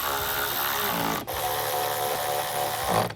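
A power driver whirs steadily, running machine screws into a rear door MOLLE panel on a Nissan Frontier, close and loud, with a short break in the middle before continuing.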